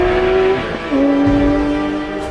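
A Porsche 911 GT3 RS 4.0 engine revs loud and close, climbing in pitch, dipping briefly, then pulling up again in a sustained high wail.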